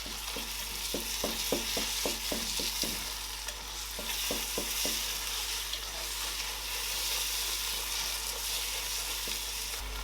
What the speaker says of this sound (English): I'm going to add curry. I'm going to add another one of the curry, and I am going to mix.